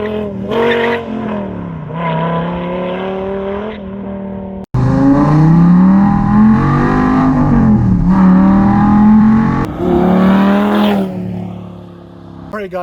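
A 2010 Dodge Viper with an 8.4-liter V10 and straight pipe exhaust revs hard nearby, its loud, raspy roar rising and falling through repeated throttle blips with one brief cut, and people talking faintly underneath.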